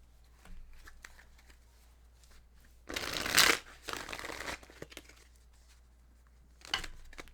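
Tarot cards shuffled by hand in a quiet room, a soft papery riffle swelling into one loud burst and then fading into lighter flicks, with a brief card snap near the end.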